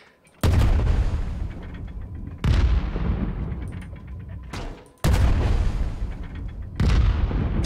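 Four heavy gunshots in the Worlds Adrift game, each a loud booming blast with a long decaying tail, spaced a couple of seconds apart with no talk over them.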